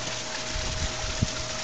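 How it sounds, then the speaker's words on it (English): Pump-fed waterfall spilling into a backyard koi pond, a steady broadband rush of falling water with a faint constant hum underneath and no pauses. "There is the waterfall"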